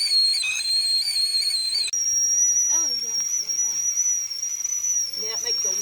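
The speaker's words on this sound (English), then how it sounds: "Yeah, it makes a whistling noise, don't it?" A Kelly Kettle whistling as its water comes to the boil outdoors over a wet-wood fire, one shrill sustained tone that rises in pitch partway through and holds steady, loud and close, with people talking briefly over it.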